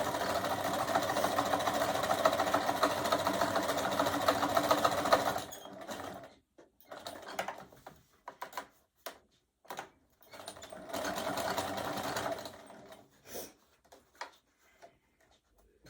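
Sewing machine stitching fabric along a seam, a continuous close mechanical whir for about five seconds, then short stop-start bursts while pivoting around a corner, and another sustained run before tapering off.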